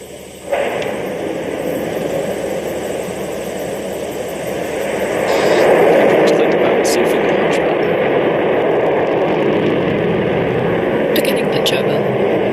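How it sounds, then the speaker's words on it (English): Loud, continuous roar from a Rocket Lab rocket lifting off at LC-1A on the Māhia Peninsula, New Zealand, starting abruptly and swelling midway into a sustained broadband rumble; a voice speaks over it briefly. "Liftoff."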